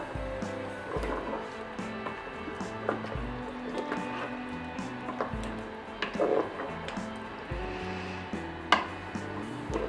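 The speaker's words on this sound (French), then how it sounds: "on mélange bien" Chicken mafé is stirred in a Moulinex Cookeo electric pressure cooker, with a spoon scraping and knocking against the pot over a steady tonal background.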